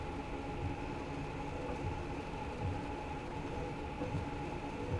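A regional train or S-Bahn passes in Train Sim World 2 on the Dresden–Riesa line, heard from inside a BR 187 locomotive as a steady rumbling drone of rail running that holds throughout, with no voices.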